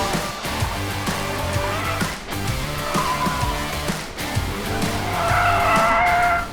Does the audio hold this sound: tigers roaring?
no